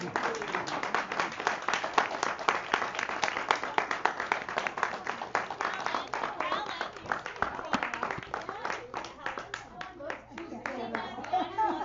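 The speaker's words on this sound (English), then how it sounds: "We applaud you." Clapping from members of a voters' league at its annual meeting, lively and somewhat uneven, with individual hand claps audible and voices mixed in, thinning toward the end.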